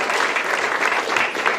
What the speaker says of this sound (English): Give Alec a round of applause.